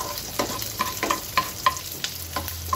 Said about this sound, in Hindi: अब हम इसमें डालेंगे अपने प्याज